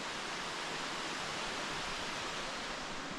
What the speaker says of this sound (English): I see water running.